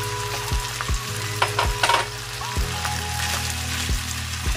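Ground beef frying in a small pan crackles and hisses loudly as a utensil stirs it, with repeated scrapes and knocks against the pan.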